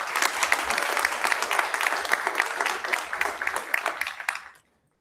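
Audience applause at a school board meeting honoring middle school track runners, sharp dense clapping at close range that tapers and cuts off near the end.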